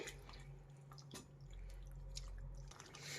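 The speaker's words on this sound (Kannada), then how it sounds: "ಇಲ್ಲಿ ನಾನು ಚಿಕನ್ ಬೇಯೋಷ್ಟು ಮಾತ್ರ ನೀರು ಹಾಕ್ತಾ ಇದ್ದೀನಿ." Water pours steadily into a pan of chicken in a quiet kitchen, with faint splashing and drips, nearby and soft.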